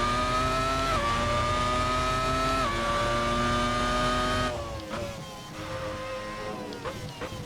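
A race car engine screams through gear changes on a lap in Assetto Corsa, its pitch climbing and dropping at each shift, then easing off into a rougher, quieter rumble as the car slows for a corner, with no voices.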